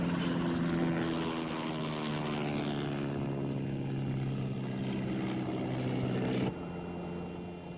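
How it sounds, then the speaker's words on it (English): A small propeller airplane drones steadily overhead during a flying lesson, a continuous engine hum with strong harmonic bands that drops off slightly near the end. "you go through this every time Steve gives her a flying lesson"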